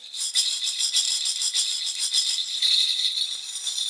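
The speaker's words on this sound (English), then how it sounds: "so it's a shaker" A handheld shaker rattle is shaken steadily, giving a continuous bright, gritty swish with regular rhythmic pulses, close and fairly loud, with no talking.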